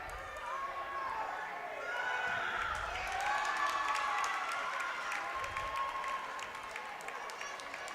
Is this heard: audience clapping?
yes